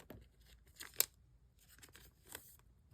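Yu-Gi-Oh trading cards slid into protective plastic sleeves, soft close rustles and crinkly scrapes with one sharper snap, quiet and alone.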